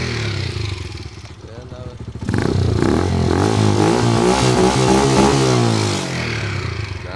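A WK 125RR 125cc motorcycle on its stock exhaust idles roughly, then revs up and holds a steady, buzzing engine note close by, with brief talk over it.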